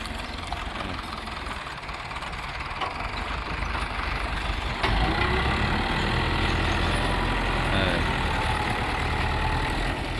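A tractor's diesel engine idles steadily nearby, a low rumbling drone that grows slightly louder and rougher midway through.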